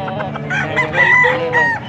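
A young stag rooster at a gamefowl farm in Pampanga crows once, close and loud, a drawn-out strained call lasting under two seconds over faint farm background.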